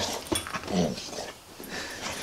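A pit bull shelter dog whimpers softly at close range, a few short whines and breathy pants over about two seconds, with no voices over it.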